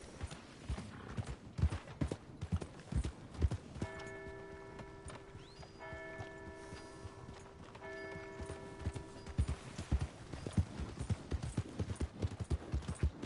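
Steady clip-clopping of horse hooves on a dirt path in Red Dead Redemption 2, a mid-distance rhythmic trot that runs the whole time, with a sustained musical tone partway through and faint talk.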